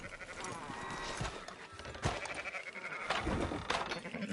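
Sheep bleat repeatedly in Red Dead Redemption 2, a flock's cries overlapping against busy background game noise, with a few sharper bleats standing out near and loud.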